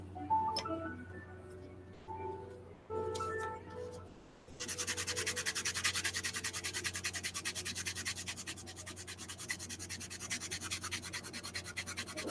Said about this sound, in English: I'll just sand these up real quick as well.